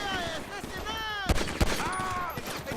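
Gunfire in a video game: a couple of sharp, loud shots crack out within half a second, close and punchy, while players talk excitedly over them.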